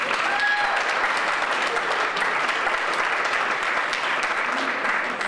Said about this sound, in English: Give it up for Troy Patterson.